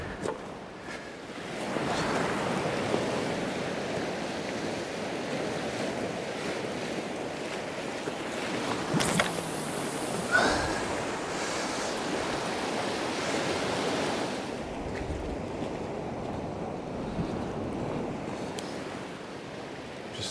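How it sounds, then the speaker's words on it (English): Waves roll onto a rocky island shore at Seaton Sluice, a steady broad wash of surf with a heavier roller breaking around the middle, mixed with wind buffeting the microphone and no talk. "Still the odd reasonable size roller coming in actually, which is stirring the bottom up"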